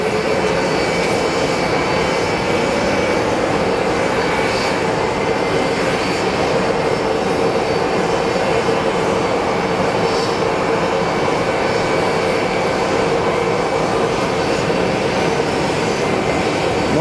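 A Southwest airliner taxiing at Phoenix Sky Harbor airport, its jet engines giving a steady loud whining roar with a low rumble, close and continuous throughout without pause.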